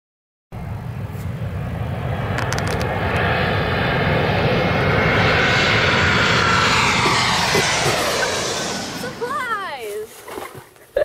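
Propeller aircraft of the Berlin airlift with a loud, steady engine roar that swells and holds for about ten seconds, then fades as a voice talks over it near the end.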